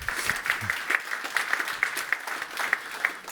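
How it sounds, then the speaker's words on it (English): A small audience claps for a guest speaker at an event, a light scattering of hands with a few sharp, distinct claps standing out, moderately close and lasting a few seconds. "Give him a round of applause for that."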